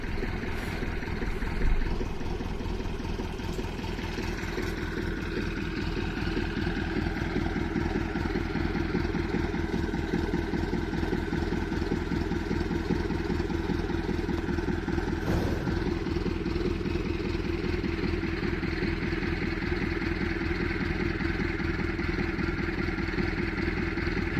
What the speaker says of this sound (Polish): silnik lokomotywki ładnie, miarowo pracuje na jałowych obrotach